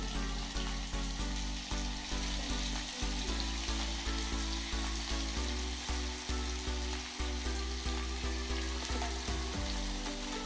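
Garlic and ginger paste sizzles in a frying pan while bhungara bateta is cooked, a loud, close, continuous crackle with faint rhythmic stirring knocks and no voices.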